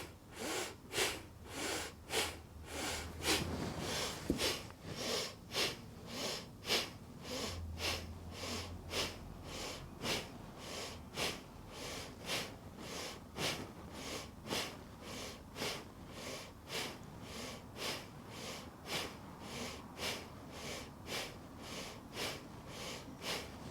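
Bhastrika yoga breathing: a steady run of forceful, rhythmic inhales and exhales through the nose, about one breath per half second and close to the mic, kept up for the whole stretch with no talking.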